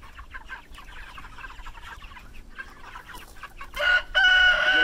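Chickens cluck from inside a poultry coop, scattered calls under a steady background, rising to a louder, harsher burst of squawking near the end.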